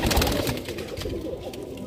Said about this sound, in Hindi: ये देखिए सारनपुरी कलसरा कबूतर है।